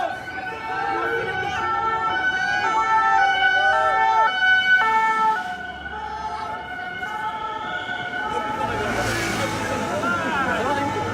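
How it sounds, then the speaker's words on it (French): An ambulance siren wails continuously with rising and falling tones, loud and close, over street traffic and scattered voices. "Il y a une ambulance"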